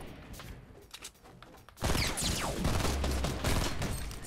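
Gunfire in the video game Fortnite, sudden dense bursts of rapid shots erupting after a quieter stretch of scattered pops, loud and sustained without speech.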